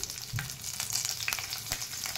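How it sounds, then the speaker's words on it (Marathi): Bitter gourd goes into hot oil already crackling with mustard seeds, giving a loud, close, dense sizzle with a few sharp pops and stirring scrapes. "आता आपण कारले घालणार आहोत तेलामध्ये"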